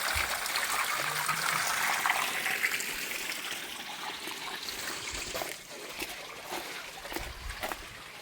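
Water runs steadily into a fish-spawning tank being refilled, a continuous rushing trickle that softens slightly partway through, with a few faint knocks.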